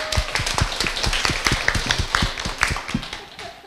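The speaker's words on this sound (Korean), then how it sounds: "박수 한번" Members of a university student club at Korea University clapping, a lively patter of individual hand claps from a small group, close and fairly loud, with a few quiet voices underneath.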